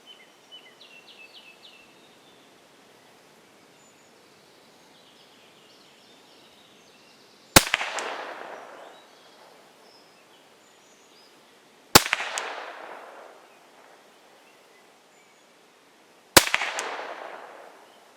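Three sharp cracks from a Huben K1 air rifle, several seconds apart, each a loud close snap with a short fading tail, with faint birdsong before the first shot.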